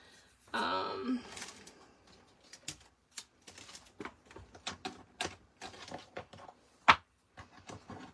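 Rubber stamp pressed onto paper during card making, giving a short run of soft taps and knocks with a louder thump near the end, close and fairly quiet.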